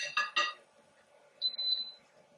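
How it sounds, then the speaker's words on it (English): Electronic beeps from the control panel of a PowerXL smokeless indoor grill being set to 450: two short bright beeps up front, then a higher, slightly longer tone about a second later, close and clear in a quiet room. "Beep, beep, beep, beep, beep."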